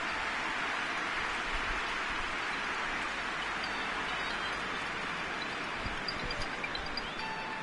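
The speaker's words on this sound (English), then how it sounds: "Just starting to get the first signs of rain here." Rain falls during a PES 2020 football match, a faint, steady hiss of drops on surfaces spread evenly throughout with no clear voices.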